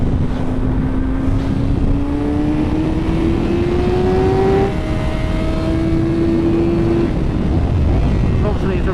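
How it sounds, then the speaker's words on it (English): Honda Fireblade road bike with a Johann Zarco-spec setup and a remapped ECU, ridden on a racetrack in Thailand: a loud, steady engine drone rising in pitch as it accelerates, with constant wind and engine roar throughout. "I'm back on the Johan Zarco spec Honda"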